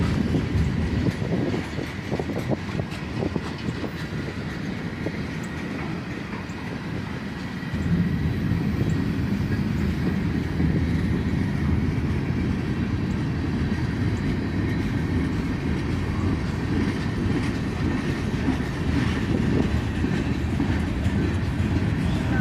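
A train rolls past on a railway line with loud, continuous rumbling and rattling wheel noise that swells partway through and stays steady and close to the end.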